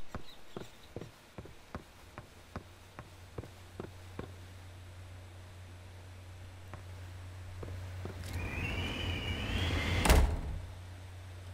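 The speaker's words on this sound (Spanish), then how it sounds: "gracias por cerrarme la puerta" A door in the first act of the game Estranged slides and closes, a long rising scrape swelling near the end into a loud shut, after a run of sharp evenly spaced footstep-like taps over a low steady hum.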